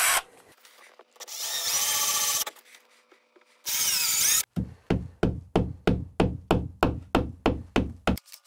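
Power drill driving screws to mount studio shelving, two sustained whirring runs followed by a steady series of about fifteen sharp, evenly spaced knocks, close and loud.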